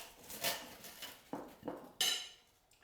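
A knife slices through a puff pastry roll filled with frankfurt and cheese on a hard surface, giving several separate crisp knocks and clinks spaced about half a second apart, close and fairly quiet.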